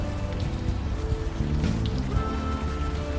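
Steady rain in the video game Unavowed, a constant dense patter on surfaces that fills the whole scene with no talk over it.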